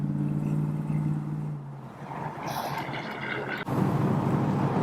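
A 1965 Ford Mustang convertible with a 289 V8, driven on a freeway at about 35 mph in slow traffic: a continuous engine and road rumble with wind noise and a brief higher-pitched passing sound, followed by a louder surge.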